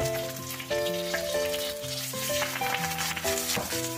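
Leaf-wrapped chicken paturi fries in hot oil in a pan after being flipped, giving a steady, continuous sizzle that sits partly under background music.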